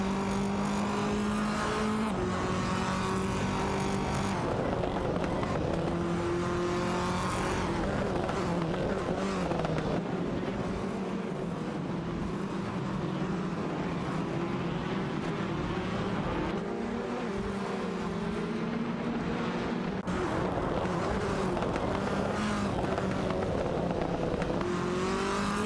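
Race cars, a Honda Civic and an Alfa Romeo Giulietta TCR, run in a racing game, engines droning and revving through shifting pitches, steady and loud throughout with occasional tire noise.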